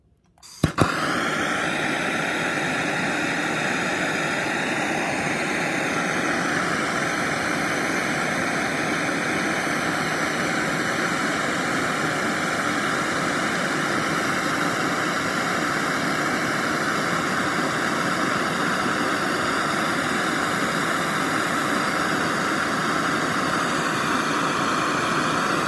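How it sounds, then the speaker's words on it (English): A standard MAP gas torch ignites with a brief pop, then burns in a steady, loud, unbroken roaring hiss held near the microphone while soldering a small ring part. "And I'm using just a standard map gas torch here."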